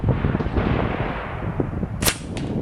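A Crosman 2240 PCP air rifle, HPA converted, fires a single sharp crack outdoors, heard close over steady wind noise.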